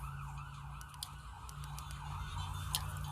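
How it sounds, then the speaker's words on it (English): An emergency siren wails faintly in the distance, rising and falling behind a low steady hum, with a few soft clicks. "Excuse the siren in my background."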